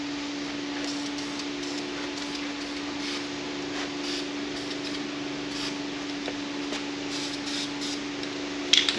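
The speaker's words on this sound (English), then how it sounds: "let's hit the base here. With some spray paint." Spray paint hisses steadily onto a metal base under a Firebird subframe, a close, continuous aerosol rush with a faint background hum and a couple of small knocks at the end.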